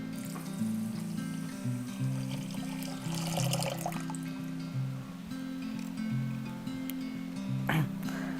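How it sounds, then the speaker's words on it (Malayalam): A cup of water is poured into a cooking vessel to make sugar syrup for gulab jamun, a short splashing pour midway over a steady low background hum. "ഞാൻ ഇതിനകത്തുനിന്ന് 1 കപ്പ് വെള്ളം ഇതിലേക്ക് ഒഴിക്കുകയാണ്"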